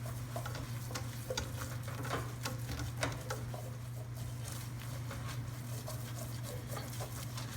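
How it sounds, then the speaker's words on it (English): A spoon works steadily through a sizzling gumbo roux in a pot, the scraping strokes ticking rhythmically over a constant low hum and fry crackle, close and continuous. "We're going to continue stirring for a few more minutes until it gets darker than this"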